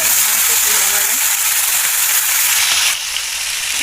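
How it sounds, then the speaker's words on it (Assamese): Tomatoes hitting a hot frying pan for an Assamese tomato-mustard fish curry, giving a steady, loud sizzle and hiss that fills the whole clip and eases slightly near the end. "ইয়াত মই দি দিম এতিয়া বিলাহীখিনি"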